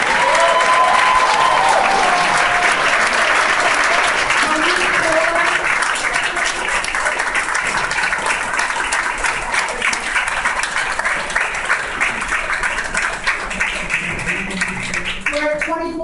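An audience at a board of education meeting bursts into sustained applause, a dense wash of clapping that holds for many seconds while voices talk over it.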